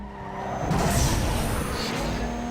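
A car engine in the video game Need for Speed Underground 2 hums steadily with road noise, rising slightly mid-clip, with no talk over it.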